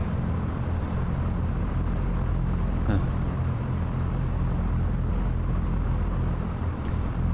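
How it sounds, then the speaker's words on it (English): A steady aircraft engine drone from a flight simulator game on a Cirrus flight from Honolulu to Kahului, a constant close hum with faint background talk. "I always fall asleep to these engine sounds."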